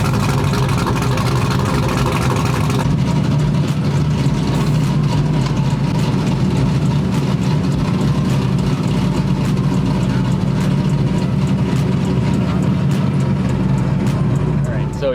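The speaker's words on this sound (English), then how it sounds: "Nothing like a cammed LS in the morning to wake you up." A cammed LS V8 engine idles steadily and loudly at close range, its deep rumble running for the whole stretch without a break.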